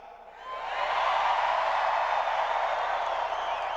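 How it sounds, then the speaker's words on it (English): Football stadium crowd roars and cheers before a snap, a broad sustained wall of voices swelling after a brief quieter start and holding loud throughout. "And listen to this crowd"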